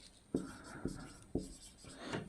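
Marker or chalk writing on a classroom board in a Hindi-medium English lesson, with three sharp taps of strokes followed by rubbing, close and fairly quiet.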